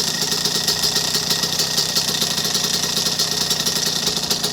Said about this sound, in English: Engine's pretty quiet, got a normal 2-stroke power to it.